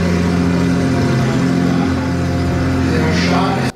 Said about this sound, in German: Der einprogrammierte Ton stammt also wirklich von einem L5-Motor und ist also kein Standard-Motor,